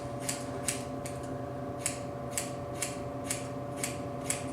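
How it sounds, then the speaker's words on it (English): Scissors snip through hair with a run of crisp, evenly spaced metallic cuts, about nine in a few seconds. The cuts are close and clear over a low, constant room hum. "I'm just going to take the comb to hold it, and then I'm going to cut that underneath out."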